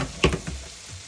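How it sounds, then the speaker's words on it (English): Shrimp hit a hot pan coated with olive oil spray, giving a brief, close sizzling burst that quickly fades into a low, quiet frying hiss. "put my shrimp in with a little bit of olive oil spray"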